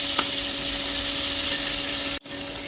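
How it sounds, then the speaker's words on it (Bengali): Fresh phali fish frying lightly in a pan give a steady, close broadband sizzle with a faint hum underneath, broken by a brief dip near the end before the sizzle resumes. "হালকা করে মাছগুলি ভেজে নেব"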